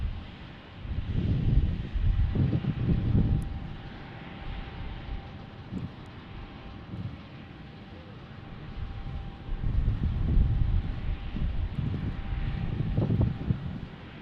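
An Envoy airliner passing at Tucson airport, a broad low roar that swells, eases and builds again, mixed with wind buffeting the microphone, no voices.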